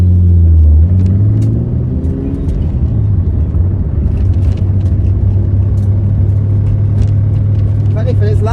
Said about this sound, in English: Should be able to hear the rattle.